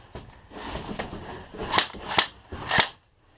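Airsoft guns fire during an outdoor counter-robbery game, with about three sharp snapping shots close together near the end after softer clicks and rustles, close and fairly loud.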